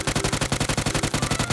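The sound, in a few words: gunfire at an indoor shooting range in a video game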